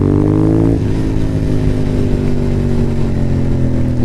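Motorcycle engine pulled hard on the throttle while riding on a cold road, a loud steady rising drone with strong harmonics that shifts pitch briefly near the start, close and unbroken.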